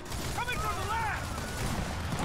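Shotgun fire in the Gears of War 4 video game forms a dense, continuous barrage of gunfire across the whole short stretch, with tonal voice-like sounds rising briefly over it.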